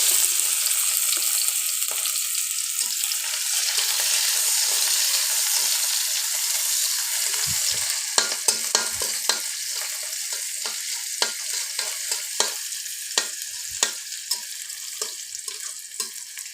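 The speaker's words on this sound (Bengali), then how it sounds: "পেঁয়াজটা একটু ভাজা ভাজা হোক" Onions sizzle loudly in a hot pan with a constant bright crackle, joined later by the regular scrape and tap of stirring.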